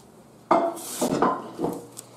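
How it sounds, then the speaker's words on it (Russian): Large frying pans and pots knock and scrape against each other in a few quick metallic clatters and clanks, close and fairly loud, with no talking. "Нам нужны большие сковороды, большие кастрюли."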